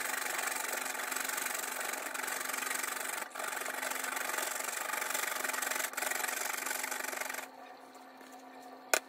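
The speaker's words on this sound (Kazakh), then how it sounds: "Және морковымызды ұсақ үкіштен өткіземіз." A carrot is rubbed over a fine grater in a home kitchen. It makes a steady, close, raspy scraping with two brief pauses, and then the sound fades near the end without any talk.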